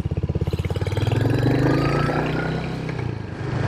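A Royal Enfield Hunter 350 single-cylinder motorcycle engine runs up close, a loud rhythmic thumping that quickens and swells as the bike turns around, then settles back into a steady beat with no talking.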